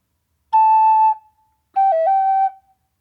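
Native American flute played with slow t-k double tonguing down the scale, two clean sustained breathy notes, the second breaking into a quick tongued articulation and step downward, alone and close.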